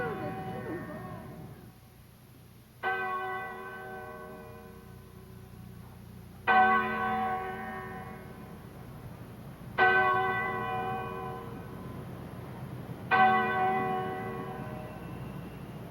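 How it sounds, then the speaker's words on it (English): A church bell in Windsor tolls loud and resonant, with four distinct ringing strikes spaced about three seconds apart. Each stroke swells and fades slowly over a low background hum. "The Windsor bell hath struck 12."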